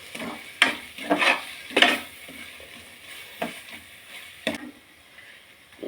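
Onions sauté in a pot for South Indian tomato rice, with a steady low sizzle under repeated scraping stir strokes and a few sharp utensil knocks against the pan, close and without talk.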